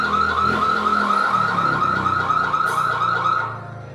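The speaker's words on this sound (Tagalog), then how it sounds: "automatic na mag-alarm po yan pag nagalaw yung hub niya." An anti-theft alarm sounding after a wheel hub is moved, a loud, steady warbling electronic siren, close and continuous, fading slightly at the end.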